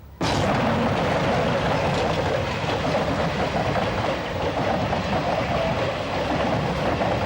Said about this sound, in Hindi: ट्रेन अभी आ रही है, देखो।